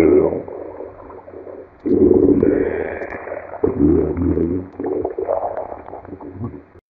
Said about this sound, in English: A man is speaking under the water, so this should sound bubbly and muffled.